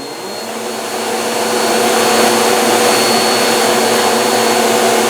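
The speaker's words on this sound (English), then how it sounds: "You're almost 21 months old and you're vacuuming." A toddler runs a household vacuum cleaner, its steady motor whine swelling louder over the first two seconds and then holding constant and close, with no talking.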